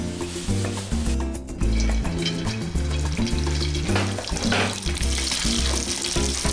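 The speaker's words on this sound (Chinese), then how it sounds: "我们将鱼肉炸到表面金黄，油泡变少，就代表这个鱼肉已经炸熟咯。" Sea bream slices coated in egg and potato starch deep frying in a pan of hot oil, a loud continuous crackling bubble close by with shifting low rumbles and occasional clatter, no voices.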